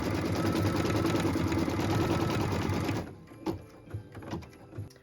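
An embroidery machine stitches a placement line in light blue thread, a fast close rattling whir running steadily for three seconds before stopping, followed by a few light clicks and taps.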